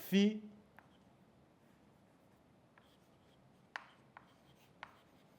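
A short bump opens, then a few sparse, faint tapping strokes of writing on a board spaced seconds apart in a quiet room, with no speech.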